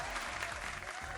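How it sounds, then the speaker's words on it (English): Brief burst of applause, steady dense clapping from a small group, loud and continuous for about a second without speech. "Zazzy, round of applause"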